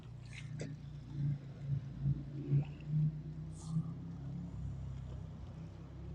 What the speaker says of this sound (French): On entend le ronronnement d'une moto qui vient de passer.